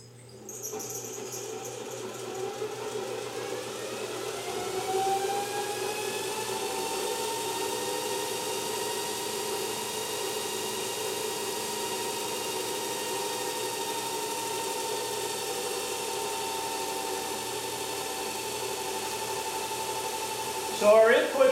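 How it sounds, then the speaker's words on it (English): A ReGen X Quantum Motor spinning at roughly 700 RPM on about 14 watts input gives a steady, even electric hum with a layered tonal whine that holds constant for the whole stretch, ending with a brief clatter. "so our input to motor number 1 is 14 watts, and the speed is approximately 700 RPM"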